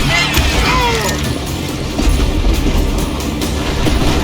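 A moving train in the Call of Juarez Gunslinger video game rolls along with loud, steady clickety-clack wheel rhythm and rumbling carriages, heard alone with a brief metallic screech early on.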